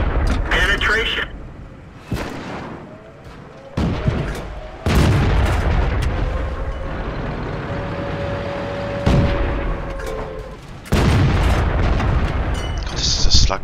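Heavy tank cannon blasts in a World War tank battle game, several loud booming shots at irregular intervals with rumbling tails, heard alongside engine drone and a voice speaking between shots.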